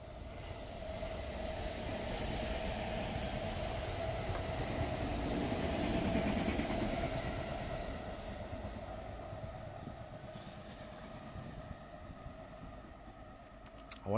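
A train runs along a railway line in a Japanese residential area, a steady rumbling roar that swells toward the middle, then slowly fades as it moves away, with no talk over it.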